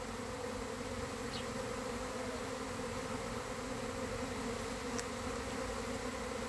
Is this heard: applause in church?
no